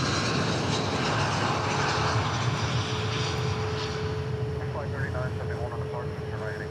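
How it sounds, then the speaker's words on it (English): United Airbus A320 jet arriving from Denver at Dallas Fort Worth airport, a loud close engine roar with a steady whine that slowly fades, with a person talking over it near the end. "United A320 from Denver."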